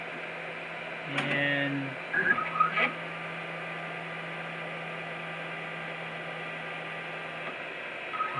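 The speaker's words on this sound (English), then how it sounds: "so it's bringing the bed back up and down again to its stop position" An XYZprinting Da Vinci 3D printer drives its bed up and down during calibration: a steady motor hum with a brief rising and falling whine, a few clicks, then a constant low drone, with no talk over it.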